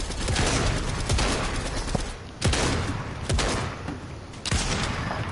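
Repeated bursts of gunfire in Fortnite aimed at a beach ball, loud and close, sharp shots recurring every second or so over continuous game noise.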